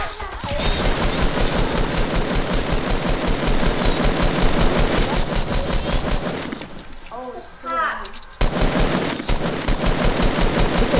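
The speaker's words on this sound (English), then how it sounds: "Somebody shooting at you, bro." Rapid machine-gun fire in a video game, loud continuous bursts with a brief lull near the end, and a voice talking over it.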